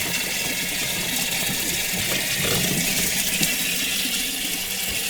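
Water leaks and runs at a cattle drinker on a farm, a continuous loud gushing hiss that holds steady throughout with faint low mechanical noise underneath.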